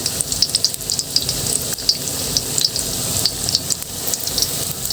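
Eggplant fries in a stainless steel pan with a steady, close crackling sizzle, dotted with sharper pops and spits throughout, and no voices.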